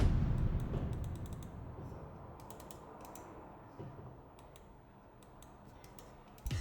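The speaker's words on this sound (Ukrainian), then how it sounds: "Свічі основних клавіш за заявами виробника мають ресурс у 10 мільйонів натискань, клікають чітко та з тактильною віддачею" Sharp, crisp clicks from the main buttons of an A4Tech Bloody ES7 budget gaming mouse, tapped in quick irregular bursts up close with a faint background hum, no talking.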